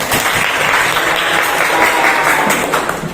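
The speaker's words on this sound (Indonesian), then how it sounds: "Tepuk tangan buat Helen." Classroom applause for a student after a hotel-greeting role-play in a teacher-training session, a dense, loud burst of clapping from a group filling about three seconds without talk.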